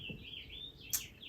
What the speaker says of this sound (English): And that was the loudest bird I've ever heard.